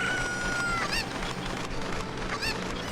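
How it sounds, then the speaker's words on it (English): A chicken in Kakariko Village in Ocarina of Time gives two short squawking clucks over a steady wash of game background sound. "There's a chicken."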